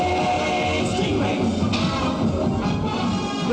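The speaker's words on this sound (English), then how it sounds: "So this is the sound of the injector tubes." The injector tubes from the 1960s Stingray puppet series give off a dense, continuous whooshing rush with a shifting metallic whine, steady and loud throughout.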